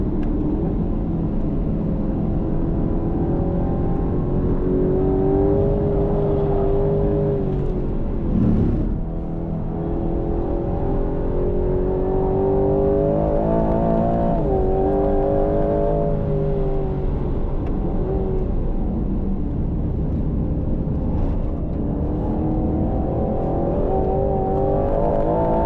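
A 2025 Aston Martin Vantage on a race track delivers a loud, continuous engine drone from inside the car, its pitch rising and falling with throttle and gear changes.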